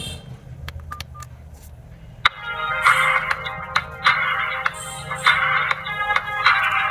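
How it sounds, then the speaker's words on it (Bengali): A bright electronic ringtone melody from a Bengal B2402 mobile phone starts after a couple of seconds of quiet, playing loud repeating phrases with a few sharp beeps in between. "রিংটোনের সাউন্ডটা একটু আমি শোনাতে চাচ্ছি"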